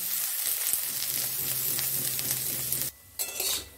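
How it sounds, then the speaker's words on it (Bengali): Grated coconut frying on a low gas flame, a close, even sizzle with brisk stirring scrapes in the pan and a brief pause near the end before the stirring resumes. "গ্যাসটা একদম সিমে করে এটাকে ভাজতে হবে"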